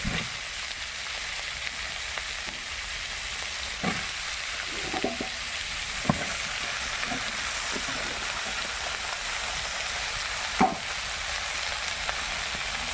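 Small shrimp and mixed vegetables frying in a wok produce a steady, hissing sizzle throughout, with occasional soft knocks and scrapes of stirring near the front.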